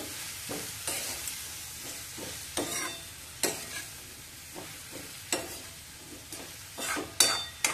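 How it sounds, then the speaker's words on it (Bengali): Ash gourd with salt and sugar being stirred in a pan, a faint sizzle beneath repeated scraping strokes of the spoon at a steady, uneven rhythm, close and soft, with no talk. "এবার সব কিছু দিয়ে ভালো করে মিশিয়ে নিয়ে ঢাকা দিয়ে দেব।"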